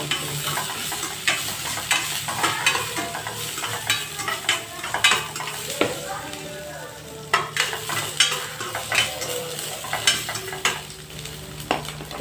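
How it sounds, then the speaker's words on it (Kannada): Onions frying in a pan, a loud continuous sizzle broken by frequent scraping and clinking of a spatula stirring, rhythmic and close. "ಈರುಳ್ಳಿ ತೊಗೊಂಡಿದ್ದೀನಿ, ಒಂದು ಗಡ್ಡೆಯಷ್ಟು ಈರುಳ್ಳಿ ತೊಗೊಂಡಿದ್ದೀನಿ. ಇದನ್ನು ಚೆನ್ನಾಗಿ ಒಂದೆಲ್ಲ ಬರೋವರೆಗೆ ಫ್ರೈ ಮಾಡಬೇಕು"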